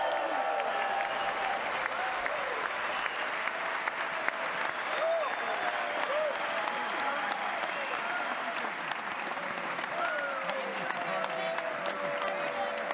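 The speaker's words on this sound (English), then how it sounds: "This clapping thing that you guys do, it's very pomp and circumstance." A joint session of Congress gives sustained audience applause, dense and continuous with a few faint voices mixed into the crowd noise.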